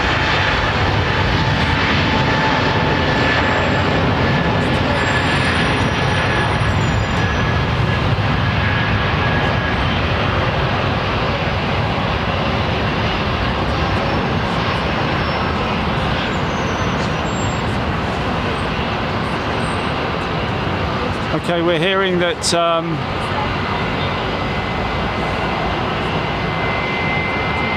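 A British Airways jet lines up at London Heathrow Airport, its engines a loud, continuous roar that fills the whole stretch and briefly swells near the end, with a few quiet spoken words.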